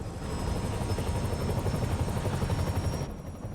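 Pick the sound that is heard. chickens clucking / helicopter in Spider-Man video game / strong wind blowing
helicopter in Spider-Man video game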